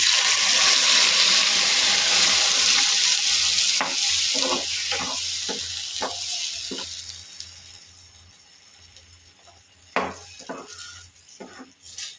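Curry leaves and chana dal fry in a pan for a chutney, a loud hissing sizzle that gradually dies down, punctuated by sharp clinks and scrapes of a spoon stirring against the pan.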